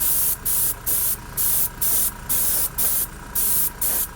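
Airbrush spraying craft acrylic paint at 24 psi, loud hissing bursts in a steady rhythm of about eight short sprays separated by brief pauses.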